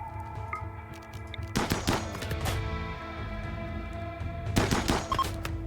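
Gunfire in a RimWorld firefight comes in two rapid clusters of sharp, overlapping shots, loud and close, with quieter tonal background between the bursts.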